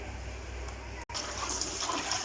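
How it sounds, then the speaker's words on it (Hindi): Dirty rinse water from washing spinach for palak gosht is poured out, a steady watery splash and trickle running throughout with one brief cut midway. "अब मैं इस पानी को, ये देखें पानी अब ये गिराने लगा हूँ।"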